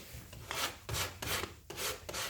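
A sheet of sandpaper or a file rubs back and forth across a cut wooden crown molding edge, four or five close rasping strokes with short pauses between them, no talk.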